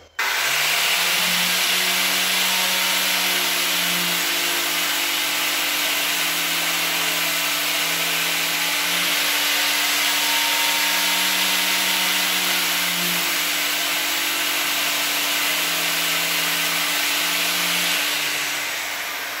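A diamond cutting disc grinds into sandstone to sharpen it, giving a loud, sustained whine with a steady motor hum and slight shifts in pitch throughout, with no speech.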